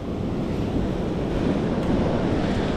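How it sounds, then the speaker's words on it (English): Ocean waves washing up a beach where razor clams are being dug, a loud continuous roar of surf with wind buffeting the microphone. "Waves, lots of water"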